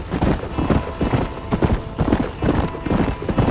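Horse hooves gallop at a fast, steady clip in the Red Dead Redemption western game, loud and close with a continuous rhythmic pounding that fills the whole stretch.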